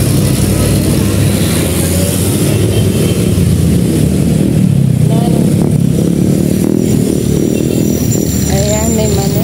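A motorized tricycle engine runs steadily nearby on a Philippine street throughout, a continuous mid-pitched drone under scattered voices and ambient street noise.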